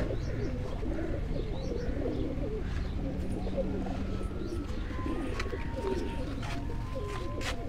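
Pigeons coo repeatedly amid a dense, continuous chorus of bird calls and chirps, with a faint voice now and then in the background.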